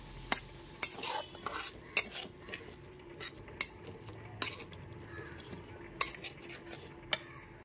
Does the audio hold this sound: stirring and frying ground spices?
yes